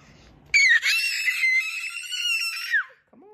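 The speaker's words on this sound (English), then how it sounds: "why you gotta scream so much?" A child lets out one long, loud, high-pitched scream lasting over two seconds, close and piercing, after brief quiet background and before a short pause.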